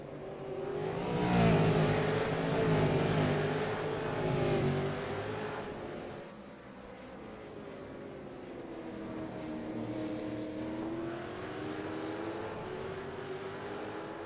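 V8 race cars battling at Bathurst, their engines rising and falling in pitch as they pass, loud at first and then fading into a more distant, wavering drone.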